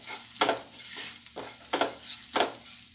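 Turmeric, coriander, red chili powder and garam masala are stirred in a hot pan for a vada pav filling, three rhythmic scraping strokes over a low sizzle, close and without talk.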